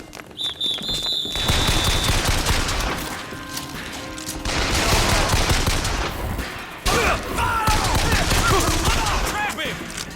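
Rapid gunfire bursts and booming shots fill a Bioshock Infinite battle, with chattering automatic fire, clanks and shouted voices over the combat.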